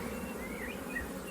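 Honey bee colony buzzing at an open hive with frames of brood, a close, steady insect drone with wavering tones.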